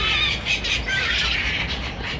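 Birds squawk and chatter in Hyde Park, London, a dense overlapping flock of shrill calls, loud and close, with steady background noise underneath.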